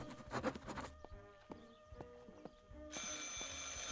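A telephone rings inside the video game Martha Is Dead, a steady repeating bell-like trill over quiet game ambience and music, no talking.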